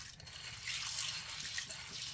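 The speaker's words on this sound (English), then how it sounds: "Got my beans in the water. Just kind of moving them around, washing them out." Pinto beans are swished around by hand in water: a soft, faint, continuous sloshing and trickling, heard alone.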